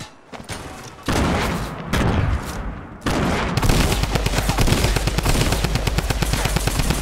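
Drum gun firing in Fortnite, rapid automatic bursts starting in short broken volleys and then running into a long, loud, continuous stream of fast shots.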